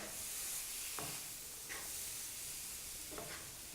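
Herbs being stirred into a Guyanese salt fish stew in a pan, a steady quiet sizzle with a few soft scraping strokes of the spoon, close and without talk.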